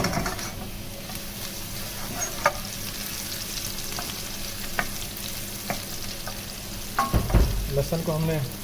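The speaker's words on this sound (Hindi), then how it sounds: "लहसुन को हमने ब्राउन करना है।" Chopped garlic and dried curry leaves frying in about 1.5 cups of oil in a pan, a steady crackling sizzle with occasional sharper pops and stirring clatter near the end.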